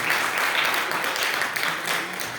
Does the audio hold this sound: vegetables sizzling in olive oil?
no